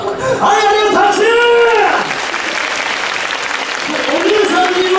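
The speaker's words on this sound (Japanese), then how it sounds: "お姉さんにも、もっと拍手。" Crowd applauding at a Universal Studios Japan street show, a steady, loud bed of clapping under a performer's animated voice near the start and again near the end.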